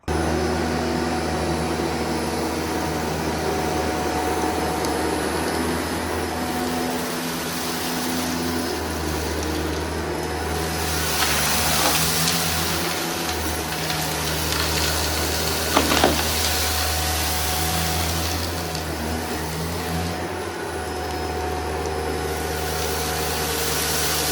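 A Shark Detect XL Pet Pro LA791UKT vacuum cleaner runs steadily and loudly close by, its constant motor drone and airflow hiss lasting throughout with no voices.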